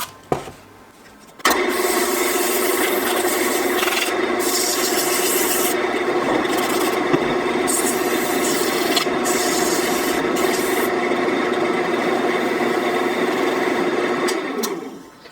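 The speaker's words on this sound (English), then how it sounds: "Just a very light sanding" Light hand sanding of a turned maple live-edge wood bowl on the lathe with fine 600-grit wet sandpaper over lacquer, a steady continuous rubbing rasp with a motor drone running underneath, starting abruptly and holding level throughout.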